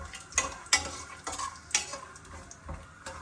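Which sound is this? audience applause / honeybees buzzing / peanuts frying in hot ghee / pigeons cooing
peanuts frying in hot ghee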